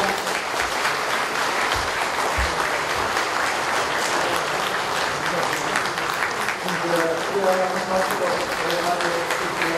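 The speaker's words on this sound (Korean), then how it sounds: "여러분 뜨거운 박수를 보내주시기" A large crowd at a Korean national security forum in a hotel hall gives warm, sustained applause. Dense clapping holds steady for the full stretch, with a few louder claps early and a voice or tone emerging near the end.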